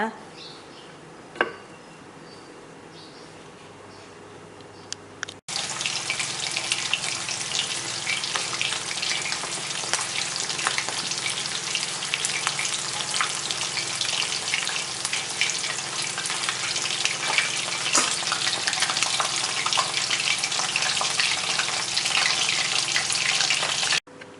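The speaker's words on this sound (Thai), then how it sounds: "แล้วก็นำไปทอดค่ะ นำไปทอดให้ สุกเหลืองเลยนะคะ" Flour-coated chicken wings deep-frying in hot oil until golden, a dense, loud, continuous crackling sizzle that starts abruptly after a quiet opening and holds steady for about twenty seconds.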